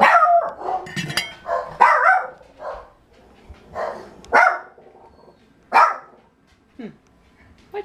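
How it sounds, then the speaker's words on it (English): Dogs in a kennel bark in several sharp, separate bursts, close and fairly loud, with brief yips and quieter gaps in between. "What y'all barking about?"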